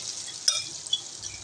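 Cumin and potato mixture sizzles in hot oil in a pan, a soft continuous frying hiss with a couple of light spoon scrapes as it is stirred, no talking.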